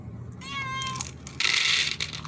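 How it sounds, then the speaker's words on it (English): A domestic family cat gives one drawn-out meow close by, followed by a burst of breathy, hiss-like noise, with no voices. "ayan ang ating family cat"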